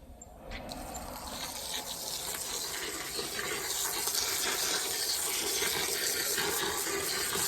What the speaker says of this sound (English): I'm gonna go and put some more water in there.